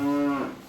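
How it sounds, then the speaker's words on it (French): A single cow lets out a low, drawn-out moo on a ski slope, loud and fairly close, fading off at the end with no talking over it. "Oh, il y a des vaches."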